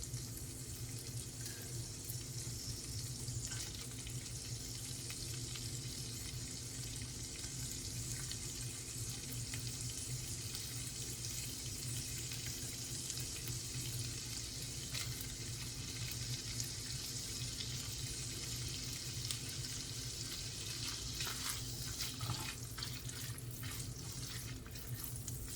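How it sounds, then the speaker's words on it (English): Diced ham and peppers fry in a skillet with a steady, even sizzling hiss that runs unbroken for the whole stretch, moderately loud and close. "So I added the diced ham to the skillet. I'm going to add my peppers to the skillet."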